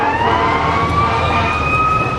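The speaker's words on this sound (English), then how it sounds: "we have the fire engines going, or ambulance, fire engine" Fire engine and ambulance sirens wailing close by in Birmingham, Alabama, loud steady rising tones over a low traffic rumble.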